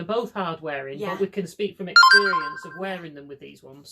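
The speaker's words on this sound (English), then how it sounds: "sorry, that's my phone" A mobile phone rings with a bright electronic tone that cuts in partway through, sounding for about a second and fading under ongoing conversation between two women in a knitting and sewing show.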